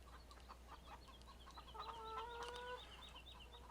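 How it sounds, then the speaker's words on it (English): Chickens in the farming game Farming Simulator 17 cluck steadily in a farmyard, with a few louder calls and a drawn-out tonal cackle rising midway over a faint steady hum. "we have our chickens already over here."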